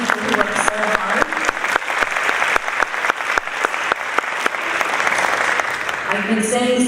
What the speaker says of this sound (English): So we can just give a big round of applause to all the people who work so hard.